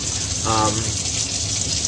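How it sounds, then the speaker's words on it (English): Tap water runs steadily into a film developing tank during home C-41 colour film processing, a loud continuous gushing hiss throughout, with a brief tonal hum partway through. "We can finally turn off the water now."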